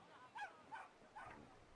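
A dog in the video game Brothers: A Tale of Two Sons gives three short whimpering yelps at fairly even intervals, faint and close.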